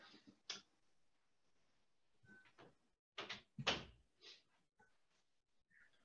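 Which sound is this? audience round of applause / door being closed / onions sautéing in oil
door being closed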